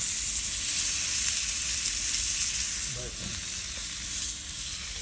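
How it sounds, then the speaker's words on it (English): Steady, broadband sizzling as snake meat oil drips and crackles over a hot fire, continuous and fairly close, with a few faint murmurs underneath. "you can drip some of its oil on the fire and flame it"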